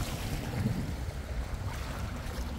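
Waves wash against a fallen log along a shoreline, heard as a continuous rough rush of water and wind, steady and fairly distant.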